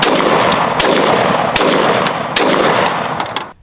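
Rapid handgun shots ring against steel target plates on an outdoor range, about seven sharp reports spaced roughly half a second apart, loud and close with no talking.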